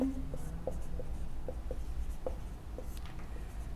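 A question being written on a board during a reasoning lesson: a quick series of short scratchy strokes and light taps, close and clear, with no talking.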